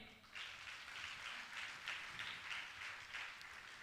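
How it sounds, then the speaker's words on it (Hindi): Listeners at a Jain spiritual question-and-answer gathering clap in a soft, steady patter as guests are invited forward, the applause sounding distant and faint, with no voices over it. "जोरदार ताली बजावें।"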